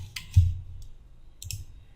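A few sharp computer mouse clicks at a desk while working in a WPF project in Visual Basic .NET, two or three quick close clicks over a quiet low hum.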